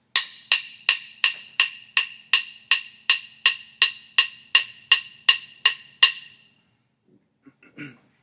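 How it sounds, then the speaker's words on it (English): Drum kit hi-hats are played on and between the beats in a crisp, evenly spaced series of about thirteen bright, close ticks. Each tick decays quickly, then the pattern stops and only a few faint taps follow. "the hi-hats are going to sound like this."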